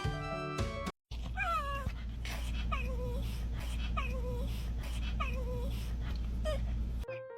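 A cat meows repeatedly indoors, about six short, clear calls spaced roughly a second apart, with a steady low hum underneath and a brief cut near the start.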